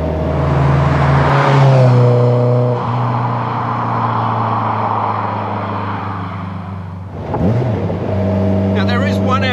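Caterham 21 sports car on aftermarket Nitron shocks, engine droning loud and close with rising revs, a brief dip and swell as gears change, under steady road and wind noise with a voice talking over it.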